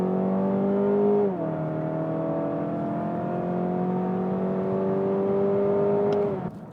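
A 2022 Mazda 6 Skyactiv G194 engine hums steadily, its pitch dipping as it shifts, then rising smoothly as it pulls harder, close and continuous throughout.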